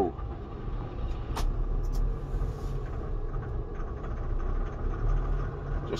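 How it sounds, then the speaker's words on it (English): A tractor engine runs in a blizzard, holding a steady, rumbling idle close by with no talk over it. "So, I just got the tractor going."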